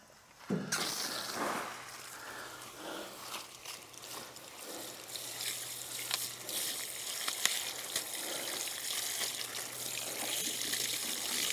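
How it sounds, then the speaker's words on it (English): A freshly picked garden beet is rinsed under running water, a steady close trickle and splash lasting throughout with no talking. "Let me wash it off."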